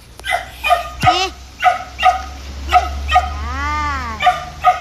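A dog barks repeatedly in short sharp yips and bow-wows at close range, with a drawn-out whimpering howl partway through, while people's voices call out in the background.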